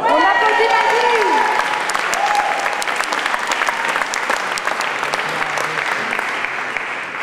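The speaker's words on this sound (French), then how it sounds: "On applaudit Basile." A slam poetry audience breaks into loud, sustained applause for a performer, a dense steady wash of clapping that eases slightly after a brief voice at the start.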